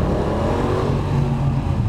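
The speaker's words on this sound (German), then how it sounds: "dann machst du mal ein bisschen Gas" A friend's Yamaha XSR 700 motorcycle revving inside a tunnel, a loud, droning, echoing engine roar that holds steady for about two seconds, with no speech.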